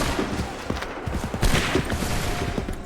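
In the video game Assassin's Creed 3, a musket volley crackles as a dense burst of overlapping shots, with sharp reports scattered through a loud continuous barrage.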